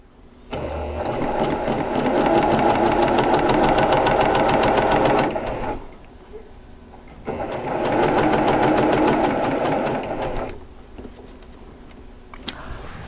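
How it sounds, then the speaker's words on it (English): A domestic sewing machine stitches the curved edge of a vintage quilt block in two sustained runs of steady, rapid needle chatter, close and loud, separated by a quiet pause of about two seconds, with no talk over it. "Now I'm going to sew this curved edge"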